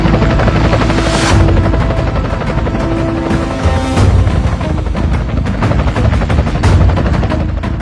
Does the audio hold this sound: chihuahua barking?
no